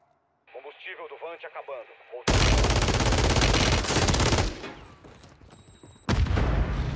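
Broken gun in Warzone, heard as dense automatic gunfire in loud sustained bursts that fade and return, preceded by a short radio-like voice and game sounds.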